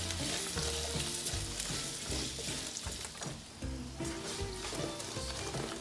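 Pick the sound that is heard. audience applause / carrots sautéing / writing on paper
carrots sautéing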